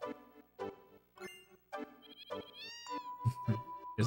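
A cat in the video game Final Fantasy VII meows several times in short, separate calls, fairly close and clear, with a sustained game tone behind the later calls.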